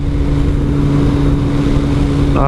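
A Kawasaki ZZR600 motorcycle cruising along with a loud steady engine drone and heavy wind rush at the microphone throughout.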